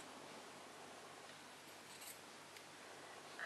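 Scissors cut through felting wool, heard as a faint, soft hiss of snipping against a quiet room.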